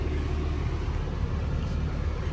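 A stock BMW car with its exhaust fitted rumbles steadily at a low pitch, a continuous, fairly close drone with no breaks.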